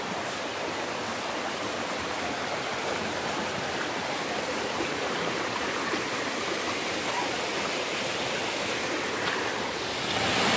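Balabag Falls pours in a steady, dense roar of rushing water, the waterfall and stream flowing close by with an unbroken, even wash of noise throughout.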